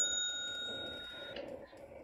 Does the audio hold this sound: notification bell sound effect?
yes